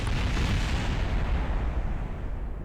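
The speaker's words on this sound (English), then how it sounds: "there goes all the parachutes, massive explosion behind you, and death" A massive explosion in Kerbal Space Program, heard as a loud, deep rumbling boom that fills the whole moment and slowly rolls off without a break.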